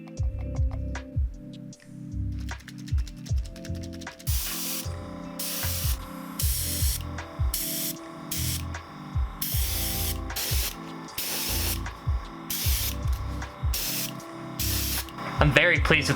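Thunderhawk Blue spray paint hisses from a spray gun onto a Star Trek phaser prop in repeated loud bursts of a second or so, separated by short pauses, with a person talking in between.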